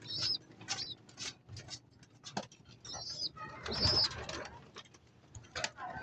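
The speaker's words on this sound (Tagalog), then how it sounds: "Ito na yung aking mga kalapate oh." Pigeons cooing softly nearby at midday, low repeated coos mixed with faint fluttering and rustling, no talk over them.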